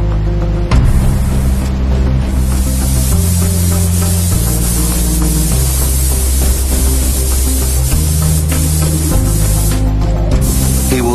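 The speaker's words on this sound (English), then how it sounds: "this technician is spraying an epoxy paint to some of the smallest pieces" Steady, loud hissing of a paint sprayer applying epoxy paint to small space shuttle rocket booster parts runs continuously, with low droning machinery tones shifting underneath and no talking.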